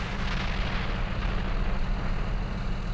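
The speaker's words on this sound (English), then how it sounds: "we've got indirect fire falling at the same time" Indirect artillery fire lands in the Steel Beasts tank combat game, a steady dense rumble of distant explosions and booming impacts rolling continuously without speech.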